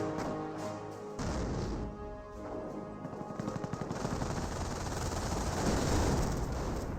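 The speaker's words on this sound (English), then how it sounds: "that looks like a regular barrage" Artillery barrage with heavy gunfire in the Company of Heroes World War II strategy game: dense, loud rattling bursts and impacts build into a continuous clatter of rapid shots and explosions, no talking.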